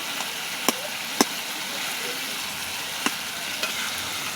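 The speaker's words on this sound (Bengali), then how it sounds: "হাতা দিয়ে একটুখানি ঘেঁটে দেবো।" A ladle stirs fish-head chorchori in a pan over a constant sizzle, with a few sharp scraping knocks against the metal.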